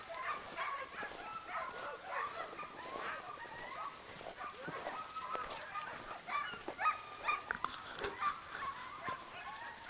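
Several dogs give short, repeated barks and yelps at fairly close range, in quick irregular bursts over a quiet outdoor background.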